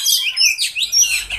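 Oriental magpie-robin (kacer) singing in bright, rapid chirps and sweeping whistled phrases, loud and close, continuous through the short stretch with brief dips between bursts, no talking.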